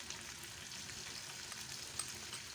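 Chicken karahi with chili and salt fries in a pan, a steady close hiss and crackle of hot oil that holds evenly throughout, with no talking.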